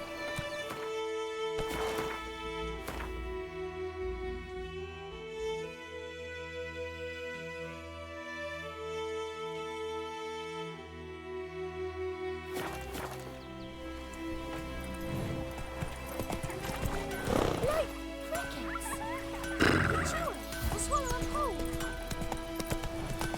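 Roach, the horse in The Witcher 3, gallops in a steady clip-clop rhythm and whinnies over orchestral game music, with a brief bit of voiced game dialogue.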